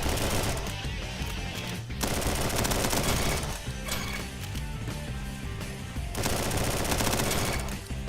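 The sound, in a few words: gunfire in Roblox Bad Business video game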